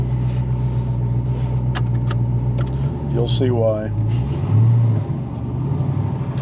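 The twin-turbo LS7 engine of a Mosler supercar idles with a deep, steady low rumble heard from inside the closed cabin, with a brief rise in revs and a person speaking over it.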